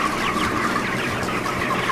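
Young chickens crowded in an intensive broiler shed chirp and cluck continuously, a dense steady chorus of many birds close by with no talk over it.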